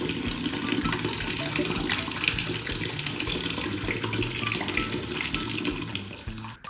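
A bottle of Chupa Chups orange soda fizzes and pours in a loud continuous rush of splashing liquid and bubbling. The sound carries on steadily with no talking until it stops near the end.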